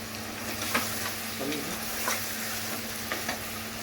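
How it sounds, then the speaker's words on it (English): Tomatoes frying in a pan for Parsi mutton dhansak with lentils and vegetables, a steady close sizzle with a few soft stirring scrapes and clicks. "I'll add the tomatoes now and then again fry it, continue to fry for 3 to 4 minutes"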